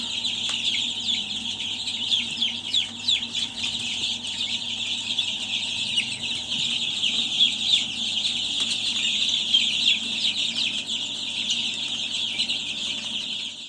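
Crested hens clucking steadily in a coop, soft overlapping clucks and chirps going on continuously at close range over a faint low hum.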